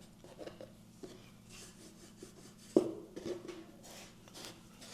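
A rolling pin works dumpling dough in quiet, soft rubbing and scraping strokes, close and faint, with a few light knocks of the pin against the board.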